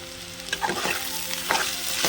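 Sliced okra stir-fries in a pan for bendakaya thalimpu: a continuous close sizzle with a few sharp spatula scrapes and stirring strokes over the hiss.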